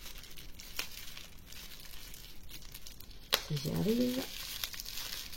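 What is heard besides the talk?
unwrapping a packaged essential oil product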